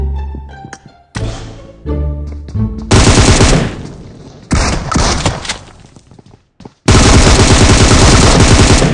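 Video game gunfire rings out loud and close: a few isolated shots, then bursts of rapid automatic fire and heavy thumping blasts, with brief gaps between volleys.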